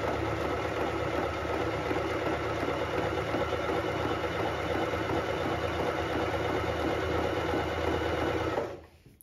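A Pfaff Hobby 1030 sewing machine stitches in a steady, fast mechanical hum and rattle, close and continuous for several seconds before stopping abruptly.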